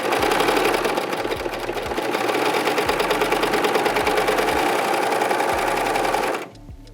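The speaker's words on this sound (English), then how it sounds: "we can see how easily the serger will gather up our fabric." A serger sewing machine gathering fabric runs at a steady, fast, close-up whir with rhythmic thumping, then cuts off abruptly near the end.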